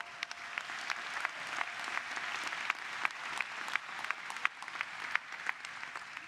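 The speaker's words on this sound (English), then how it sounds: "give them a round of applause." Applause from a law school commencement audience, a steady wash of many hands with sharper individual claps popping out at an even, moderate distance, continuing without speech.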